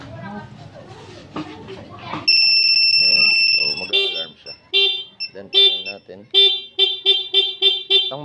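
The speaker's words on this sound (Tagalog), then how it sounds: "Malakas na busina, subukan natin." A loud aftermarket horn on a Yamaha Sniper 150 MXi motorcycle blares in one long sustained tone, then a series of short rhythmic honks, close up after someone speaks briefly.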